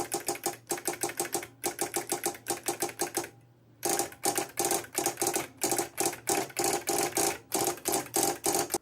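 Fast, loud clacking keystrokes on an IBM 5251 beam spring keyboard, whose solenoid is faulty, come in dense rhythmic bursts with one brief pause partway through.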